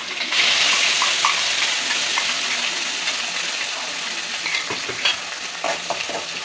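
Mustard seeds and curry leaves fry in hot oil for a sundal masala, making a loud, dense, continuous sizzle close by with faint crackles and pops, and no talking.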